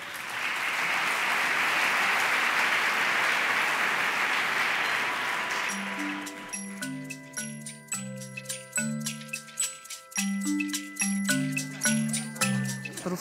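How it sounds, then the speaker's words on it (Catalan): Audience applause at an education hackathon presentation fills the first six seconds, then stops as a tinkling, chiming melody with ticking clock-like beats takes over. "Sisplau, un aplaudiment per la Mònica."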